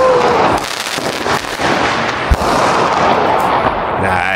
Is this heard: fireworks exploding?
yes